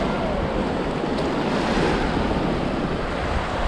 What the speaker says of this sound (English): You have to just stand here and kind of watch as the waves roll by